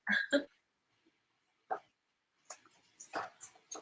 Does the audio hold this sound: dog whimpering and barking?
yes